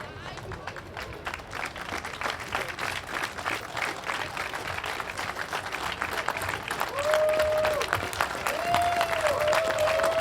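A crowd applauds the German Rescue Ladies after a vehicle rescue demonstration, giving dense, sustained clapping that swells toward the end. A tonal electronic beep-like tone sounds near the close.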